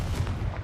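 A Confringo blasting spell explodes in Hogwarts Legacy, giving a short, dense burst of low booming rumble that holds steady and loud for under a second.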